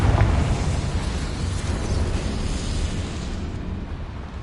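A Confringo blasting spell detonates in a video game, a loud, close, rumbling explosion that roars across the whole moment and stays dense and sustained without clear breaks.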